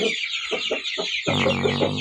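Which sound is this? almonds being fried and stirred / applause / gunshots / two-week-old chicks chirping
two-week-old chicks chirping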